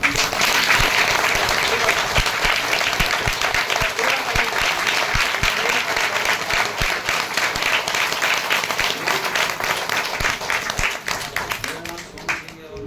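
Loud, sustained applause from a large crowd at a religious satsang, dense clapping that holds steady for several seconds before tapering slightly at the end.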